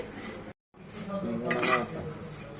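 Prawn shells dry roasting in a pan without oil, stirred with clinks and scrapes of a utensil against the metal. A brief gap falls early, then a louder rattling scrape follows, with a voice faintly present.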